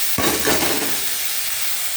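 Spiced masala hits a hot pan holding shrimp and banana flower with a sudden loud sizzle, then a steady close hiss of frying.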